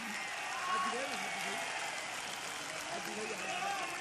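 Distant, faint applause from the audience at a Mumbra mushaira poetry event, a soft continuous patter with a voice murmuring underneath.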